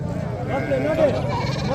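A DDB-breed breeder goat bleats at a busy livestock market in Dera Ghazi Khan, giving a few wavering calls close by over a steady hum of crowd noise.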